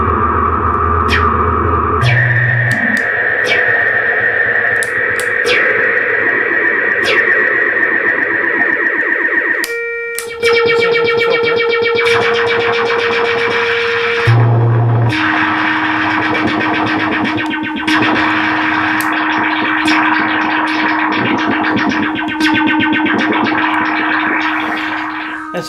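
A Minimoog synthesizer plays its noise source blended with oscillator 3 in the modulation mix. Loud buzzy, distorted tones shift pitch in steps and sustained notes change abruptly, with hissing noise layered throughout and no talking.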